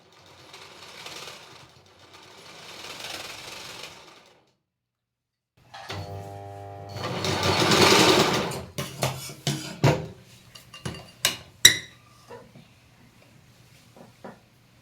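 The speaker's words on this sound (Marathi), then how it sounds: "मी आधी डबल टिप मारून घेते" Sewing machine stitching puff sleeves, running in a few bursts of steady whirring with clicks and knocks between them, close and fairly loud after a stretch of quieter sound at the start.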